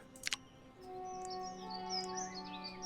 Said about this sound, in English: And a few birds tweeting in the forest.